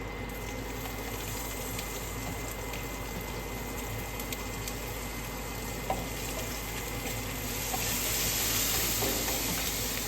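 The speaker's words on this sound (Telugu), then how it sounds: "కొంచెం అల్లము, కొంచెం పచ్చిమిరపకాయ పేస్ట్ వేస్తున్నానండి" Ginger and green chili paste frying in a pan for a bell pepper fry, giving a continuous dense hiss of sizzling oil that holds steady and swells slightly toward the end, with no talking.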